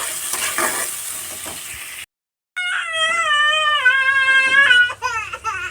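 Food sizzles and is stirred in a pan with a close, hissing crackle, which cuts out briefly before a baby's loud, wavering crying takes over over faint background noise.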